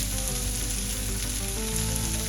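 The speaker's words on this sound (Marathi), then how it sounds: "कांदा थोडं परतून घेऊया. आपण शिमला मिरची घालूया." Onion and capsicum sautéing in a pan for egg fried rice make a steady, loud, close sizzle that holds without pause, with a faint hum beneath and no voices.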